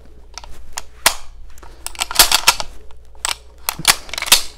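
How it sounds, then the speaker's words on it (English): J.C. Higgins model 20 shotgun being cycled by hand, loud close metallic clacks and snaps of the action in rapid irregular bursts. "as it cycles, the firing pin will automatically go home into the shell in the chamber"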